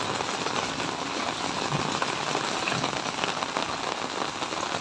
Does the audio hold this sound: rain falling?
yes